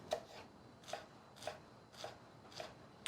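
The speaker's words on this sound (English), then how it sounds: "chopping or mincing this shallot" A knife chopping a shallot on a cutting board in a home kitchen, five crisp, evenly spaced quiet taps, close and alone with no talk.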